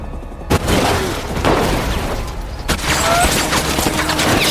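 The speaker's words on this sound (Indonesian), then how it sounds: "Terjadi adu tembak antara Saju dan polisi tersebut." Gunfire exchange between police and a gang in an Indian action film: heavy booming shots and bursts of fusillade over a dense, loud battle background, with sharp blasts punctuating the din.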